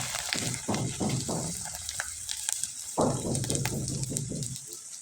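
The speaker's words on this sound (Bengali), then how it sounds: "এখন আপনাদের কয়েকটা চিপস আমি ভেজে দেখিয়ে দিচ্ছি।" Raw mango chips sizzling and puffing in hot oil, a crackling hiss with repeated bursts of bubbling that rise and fade in a steady rhythm, close and fairly loud.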